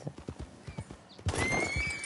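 In Red Dead Redemption 2, a horse with stone bruises trots close by in a steady clip-clop, followed by a loud, shrill whinny that rises over the hoofbeats.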